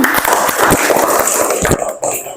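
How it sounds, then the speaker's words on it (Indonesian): A classroom of children clapping in applause for their teacher, a brisk burst of many hands close by that fades out after about two seconds. "Oke, bagus sekali, tepuk tangan"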